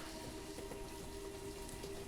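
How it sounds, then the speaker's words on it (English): Rain falls steadily in the village-building game Banished, a faint, even hiss of drops with a constant low ambient hum beneath, unbroken and without voices. "Very rainy day here."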